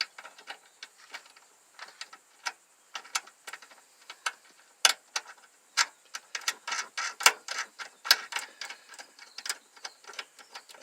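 A bolt and nut with a flat washer and lock washer being fastened while installing a swivel seat in a Ford Transit van, heard as irregular small metallic clicks and ratchet-like ticks, close and fairly quiet, with no voices.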